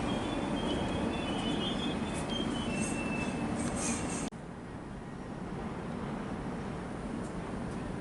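An automated Docklands Light Railway train pulls away with a steady rolling rumble and faint wheel squeal, loud and continuous, the tone dropping noticeably partway through as it departs.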